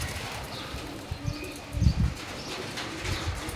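Pigeons in a home loft, short-beaked birds kept for sale in Mirpur, Dhaka, cooing softly with a brief burst of wing flapping midway, fairly close and alone.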